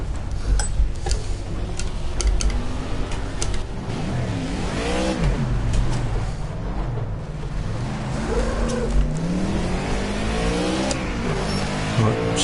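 A race car engine in the Project CARS video game revs and shifts continuously, pitch sweeping up and down with acceleration and gear changes, loud and close with no talk over it.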